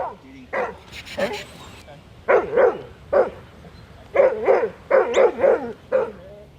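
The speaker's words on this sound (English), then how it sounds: "she uses her bark to direct the stock and keep them moving around the pen" A one-year-old Huntaway working dog barks repeatedly in short, loud bursts while moving livestock around a pen, some in quick pairs and clusters, with a brief whistle early on.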